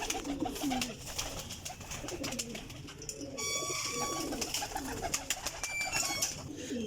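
High-class champion flying pigeons cooing in a loft, repeated soft throaty coos overlapping with other birds' calls and a brief high whistling chirp, close and continuous.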